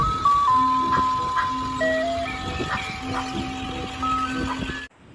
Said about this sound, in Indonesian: Wow, ini ada mobil es krim.